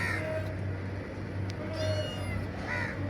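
A cat meows several times in short, bright calls over a steady low hum, outdoors on a morning in the UAE near a parked car's tyre.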